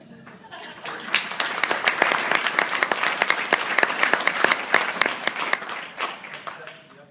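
Audience applause at a large graduation ceremony for the class of 2013, dense overlapping claps building quickly, holding steady, then tapering off near the end, with some voices mixed in.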